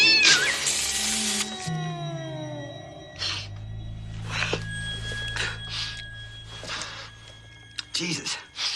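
A cat in a film scene set in a mansion during a burglary lets out loud, drawn-out meows and a caterwauling yowl up close. Electronic tones and voices are mixed in.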